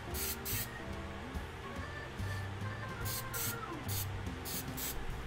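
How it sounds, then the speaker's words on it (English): Hairspray hisses out as a fine mist onto a painted prop kit, the can held well back, in a steady continuous spray broken by a few short pauses and renewed bursts. "And first we have to put hairspray on it."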